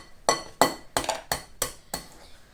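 Eggs beaten in a bowl for Ukrainian cabbage rolls, six sharp, evenly spaced clinks of utensil against the bowl, close and clear with no talk.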